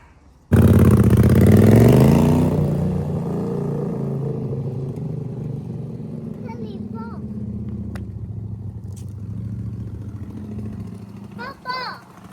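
Honda CX motorcycle built as a dual-purpose bike, starting off on a test drive: a loud engine surge and rev at the start, then a steady running rumble with faint chirps and clicks over it, and no talking.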